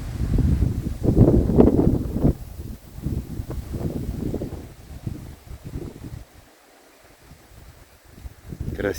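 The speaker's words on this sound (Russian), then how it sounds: "Вот как ветер раскачивает кроны деревьев." Wind sways tree crowns on a riverbank, gusty rushing and rustling that swells and fades in waves, fairly close, then drops to near calm before a final gust.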